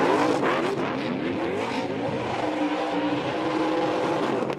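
A NASCAR truck engine roars loudly through a burnout at a road course race, revving hard and sustained for several seconds with rising and falling pitch and hints of tire squeal, with no voices.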